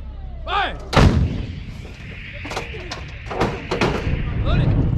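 Marine artillery gun fires during a bilateral live-fire range exercise, a single loud, close blast with a rolling boom afterward, while shouted commands and crew voices carry on around it.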